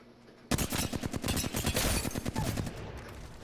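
Rapid automatic gunfire from the Apex Legends video game kicks in after a quiet half second, a dense, loud burst of rounds lasting about two and a half seconds before trailing off.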